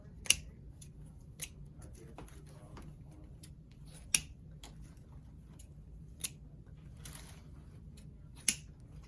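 Scissors snip the wire tails on a grapevine wreath, several sharp, isolated clicks spaced a second or two apart over a faint background hiss, close by with no talking.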